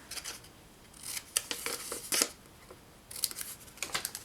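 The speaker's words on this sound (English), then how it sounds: "I just took my little snips and I trimmed off those two corners right there" Small snips trim corners off thin paper, giving a handful of close, crisp cutting clicks in two short clusters separated by a pause.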